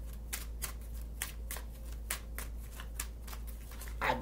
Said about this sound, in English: I done shuffle these cards.